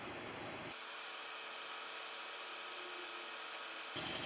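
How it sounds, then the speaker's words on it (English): Wet, green wood spins on a lathe at around 600 RPM while 320-grit sandpaper is held against it, giving a steady, soft, hissing rub that starts and stops abruptly, close and fairly quiet. "Do a quick sanding real quick. I'm going to use a 320 on it."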